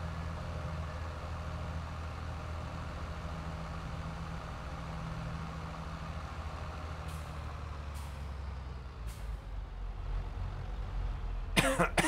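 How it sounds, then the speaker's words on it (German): A man gives a few short, dry coughs, spaced apart and then a louder burst at the end, over a constant low engine drone from Farming Simulator 22 that runs underneath the whole time. "Nein, mein Husten wird auch nicht besser."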